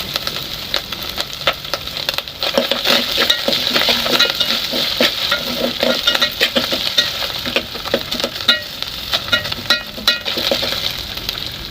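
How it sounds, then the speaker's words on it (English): Mincemeat fries in cooking oil in a pan while a utensil stirs and scrapes through it. The sizzle is steady and close, with irregular scraping strokes throughout and no talking. "Our mincemeat to cook until it turns brown"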